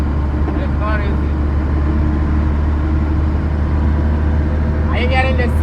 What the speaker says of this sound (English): This is SHACMAN F200, 420 horsepower. This is how it sounds going 60 kilometers per hour.